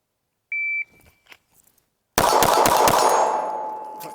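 Shot timer beep, then a short pause and a rapid burst of Glock 19 Gen 5 pistol shots fired close by, loud and sharp with ringing echo after each one.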